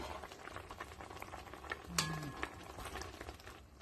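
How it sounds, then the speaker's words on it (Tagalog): Quiet bubbling of broth with sardines simmering in a pot, a steady soft gurgle with a brief clink partway through. "Kumukulo-kulo na siya"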